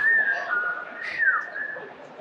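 Clear, fairly loud whistled melody from a person, a sustained tune with gliding notes carried alone with no talking over it.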